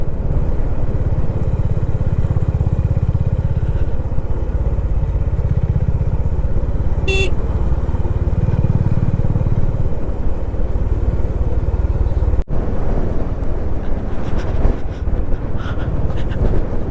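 A motorcycle ride on a sandy mountain road between Panamik and Pangong: a steady engine drone plus wind rumble throughout, loud and continuous, with rougher road texture toward the end.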